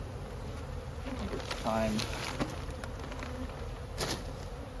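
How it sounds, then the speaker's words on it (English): Bees buzz steadily inside a crowded beehive, a close, continuous droning hum with brief louder passes, under a few quiet spoken words. "And this certainly looks full of bees."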